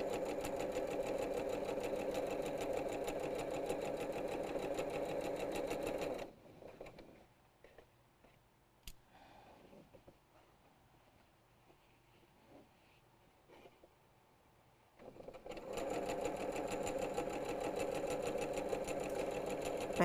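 A sewing machine stitches a quilt panel in a steady mechanical whir, running loud for several seconds, pausing to near quiet with faint handling noises, then resuming its even stitching.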